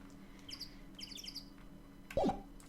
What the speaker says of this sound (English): Chirpity chirp.